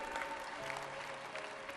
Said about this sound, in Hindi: जोरदार ताली ठोको